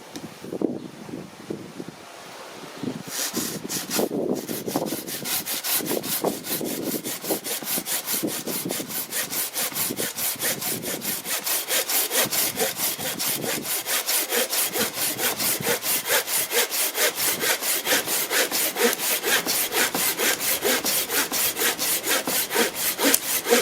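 A Dnipro-M garden saw cuts through a wooden branch with steady back-and-forth strokes, close and loud, running continuously after a brief pause at the start, with no talking.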